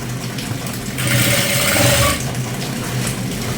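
A sewing machine stitches folded fabric for a school uniform coat in a brief, steady run of about a second, its whirring buzz standing out over a constant background hum.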